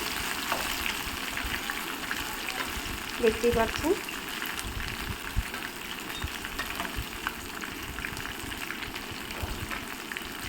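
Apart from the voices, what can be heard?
fritters frying in oil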